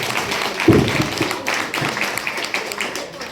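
A crowd at a Ganesh festival mandal's evening aarti in a hilltop housing society claps loudly and continuously, a dense rattling patter of many hands with a few sharper claps early on.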